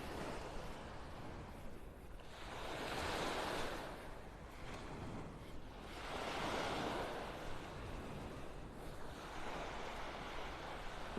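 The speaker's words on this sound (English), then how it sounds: "Beautiful beach, beautiful weather." Surf rolls onto a beach at Delnor-Wiggins in North Naples, Florida, soft swells of wash rising and falling in a slow rhythm about every three seconds, with light wind noise and no talking.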